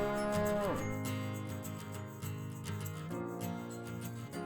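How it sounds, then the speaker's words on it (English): Dairy cows on a 500-head farm moo in long, drawn-out low calls, one bellow sliding down early and others following, loud and close with a sustained tonal quality. "These are some of our 500 cows up at 4 AM this morning."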